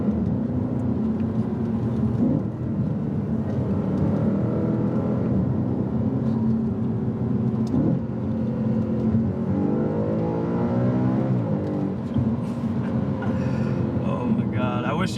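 A deep, throaty V8 engine of a 2015 Audi RS5 revs and accelerates through the gears, its pitch climbing and dropping repeatedly, heard from inside the car.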